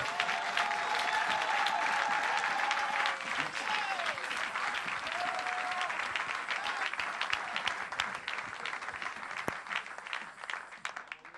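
A church congregation applauds loudly and continuously in a dense roar of clapping, with cheering and voices rising through it and a sustained musical tone drifting underneath.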